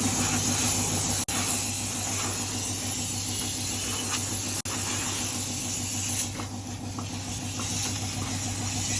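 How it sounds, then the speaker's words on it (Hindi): Diesel is sprayed through a nozzle into a car's engine bay during servicing, producing a steady, close hiss over an idling engine hum, interrupted by two brief sharp clicks. "ये इंजन रूम में जो डीजल लग रहा है इंजन रूम में।"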